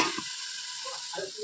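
Bitter gourd frying slowly in a covered pan, a steady close sizzle with faint background voices underneath.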